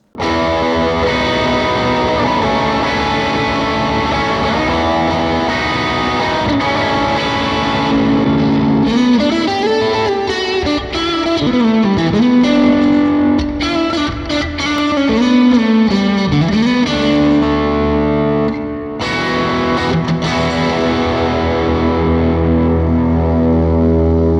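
Electric guitar played through a Fractal AX8 modeler on a patch, giving a loud, heavily processed distorted tone with chorus and reverb across continuous riffing, bends and sustained chords, with no voices.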